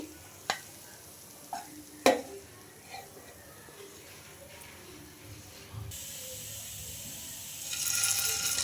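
Rava banana sweets fry in hot oil with a soft, steady sizzle, broken by a few clinks and scrapes of a utensil early on, and a brighter hiss rising toward the end.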